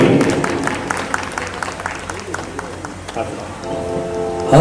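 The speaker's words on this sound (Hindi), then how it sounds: "जोरदार तालियां बच्चों के लिए।" A crowd at an annual chariot procession festival in Muzaffarnagar applauds the children, giving dense, rain-like clapping that stays steady throughout and swells again at the end.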